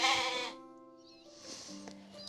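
A sheep bleats loudly at the start with a wavering, nasal cry, followed by softer, more distant bleats trailing after it.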